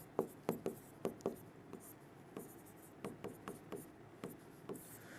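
Chalk or marker writing on a board during a Hindi law lecture, with a series of short, sharp strokes and taps in uneven bursts, fairly faint and close, separated by brief pauses in a quiet room.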